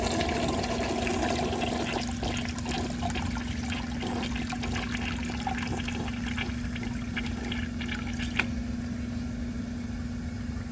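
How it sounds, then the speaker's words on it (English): A 1982 Crane Dalton toilet, its bowl emptied, rushes and gurgles steadily with water as it flushes and refills, a loud continuous wash with a low steady hum beneath. "I'm gonna let that fill up and then give it another flush."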